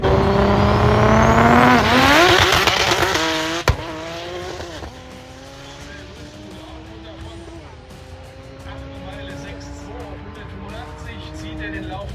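A drag racing car makes a full run on a German drag strip: a loud engine roar climbs steeply in pitch, then settles into a steadier, more distant drone while a commentator talks over it.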